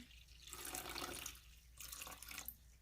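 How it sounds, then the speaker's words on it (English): Water pours steadily in broad splashy bursts, pausing briefly between them, close by with no talking. "I'm just using some purified water here."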